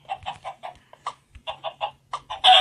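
A Minecraft chicken clucks in quick bursts of short, repeated calls, close and clear, ending with a louder squawk.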